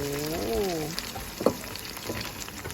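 A Thai omelette fries in hot oil, giving a bubbling, crackling sizzle near at hand, with a brief voiced sound early on and a few sharp clicks and scrapes.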